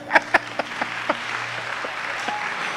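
Several sharp, loud claps ring out close by in a church worship service, then spread into lighter, scattered applause from the congregation that thins out toward the end.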